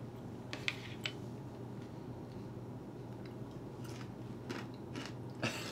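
Crunchy seasoned meat is chewed up close, with a few sharp crunches and bites scattered over a low steady background hum. No talking.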